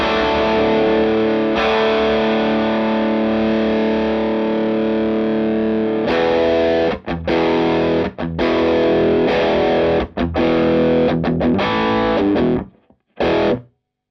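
Electric guitar through an OCD overdrive pedal into an SC30 amp: thick, sustained chords ring out, then break into choppy, muted stabs with short gaps before cutting off.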